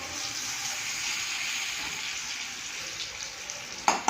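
Pointed gourd (potol) frying in a pan gives a steady, moderately loud hiss of oil, with a couple of sharp clinks near the end and no speech.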